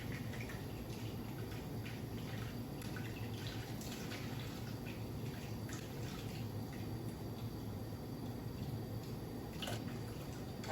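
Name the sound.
salmon being washed under running water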